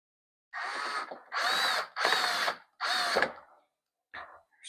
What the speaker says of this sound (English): And we can go ahead and put our screws